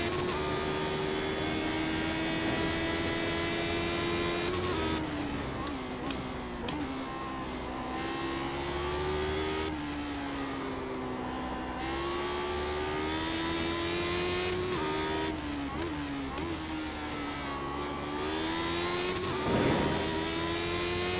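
A race car engine drones steadily at high revs, pitch dipping and climbing through gear changes and corners, loud and close throughout with no talk, on a NASCAR or Formula 1 circuit such as Daytona or Spa-Francorchamps.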